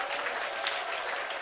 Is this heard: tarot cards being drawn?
no